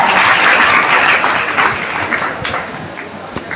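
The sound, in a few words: audience applause for teachers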